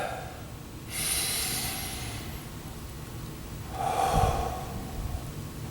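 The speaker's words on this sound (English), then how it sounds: "take a deep breath" Two slow, deep breaths close to the microphone, a long airy inhale followed a few seconds later by a breathy exhale, quiet and with no talking.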